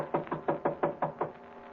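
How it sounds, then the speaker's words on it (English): Seven firm, evenly spaced knocks on a door, close and clear, one after another with no voices. "Then I knocked again."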